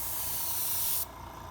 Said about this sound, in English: spraying a vignette. A soft gradation of color by holding the airbrush back, away from your work, and spraying overlapping passes